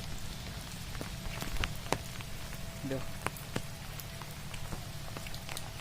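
Heavy rain pours down during a storm that brought down a house, a steady dense hiss with scattered sharper drips and taps throughout.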